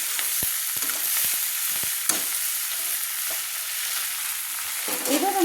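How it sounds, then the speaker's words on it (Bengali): Ground spices being sauteed with spring onions and potatoes in a pan over a low flame, giving a soft steady sizzle with scattered spoon scrapes and taps, close by, and a louder clatter near the end. "এবার গুঁড়ো মশলাগুলো দিয়ে আমি সুন্দর করে কষিয়ে নিচ্ছি"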